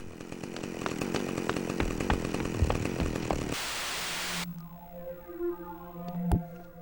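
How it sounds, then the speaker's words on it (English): A chainsaw in the video game Manhunt cuts down a door, giving a loud, steady rasping roar for a few seconds that then cuts off and gives way to quieter tonal game sounds. "We can use the chainsaw to cut down his door just like he did."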